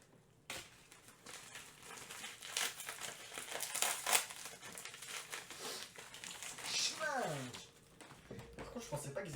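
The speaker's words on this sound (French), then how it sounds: "Le scotch, c'est une galère à enlever" Adhesive tape being peeled off a poster, close crinkling and crackling with a sharp tearing rip near the end, mixed with someone talking.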